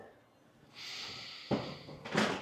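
A wooden floorboard creaking underfoot indoors, a drawn-out strained creak followed by two sharper creaks as weight shifts, close and moderately loud.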